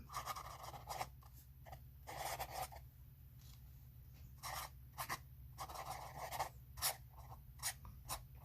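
A vintage Waterman flex nib fountain pen from around 1908 scratches across paper in short, quiet bursts of writing strokes, pausing between words, close and faint over a low background hum.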